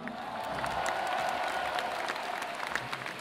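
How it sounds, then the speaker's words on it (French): A concert crowd at a rock show applauds steadily for about three seconds, dense and sustained clapping with a few cheers rising from the mass of people. "vous pouvez les applaudir aussi."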